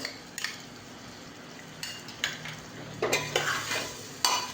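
A spoon stirs vegetables with spices and a little yogurt in a hot pan while cooking pea rice, giving soft scraping clinks and gentle sizzling in irregular bursts, close up.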